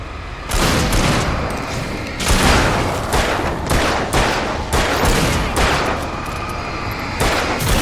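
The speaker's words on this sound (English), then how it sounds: "Shooting!" Gunfire in the video game Alan Wake comes as dense, loud bursts of booming shots that repeat almost without a break for several seconds, heavy and close with no gaps of quiet.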